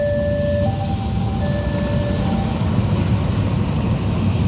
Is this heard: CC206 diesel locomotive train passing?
yes